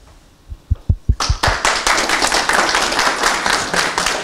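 An audience at a planning feedback session starts with a few isolated claps that quickly swell into steady, close applause, continuing to the end.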